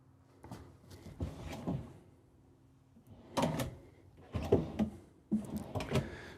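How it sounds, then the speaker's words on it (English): Soft-closing drawers in the kitchen of a 2024 Renegade Valencia 36SB RV glide and settle in a few gentle, muffled bumps and slides, close but quiet, with short pauses between them. "you have soft closing drawers"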